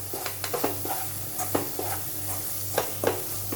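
Brinjal masala for stuffed Malvani-style baingan is stirred and sautéed in a pan on a low flame. A soft sizzle runs underneath repeated scraping strokes of a spatula, with a low steady hum in the background.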